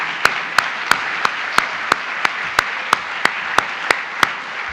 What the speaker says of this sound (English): give a round of applause to not only our recipients, but all of our class of 2023